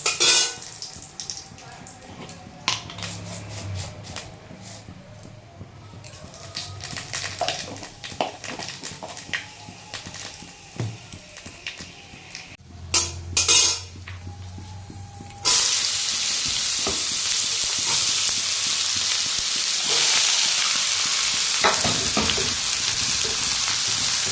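Bay leaf, dried chilli and panch phoron sizzle in hot oil, a steady frying hiss that jumps louder partway through and then holds, with light clatter of a pan and utensil underneath.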